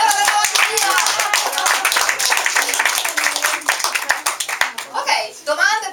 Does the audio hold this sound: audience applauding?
yes